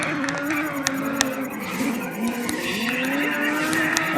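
Car drifting in the Grid racing game: a steady engine drone with sustained tire squeal sliding in pitch, loud and continuous, with occasional sharp clicks and no talk over it.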